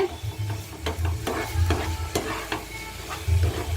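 Coconut filling for kozhukattai melting in a pan, stirred with rhythmic scraping strokes over a soft continuous sizzle, close and moderately loud, with no voices.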